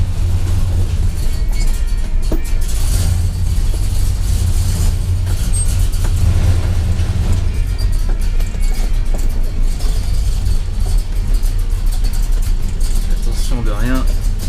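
A pickup truck engine, on a truck with brake failure, runs with a low steady rumble throughout, close and continuous, while someone talks over it.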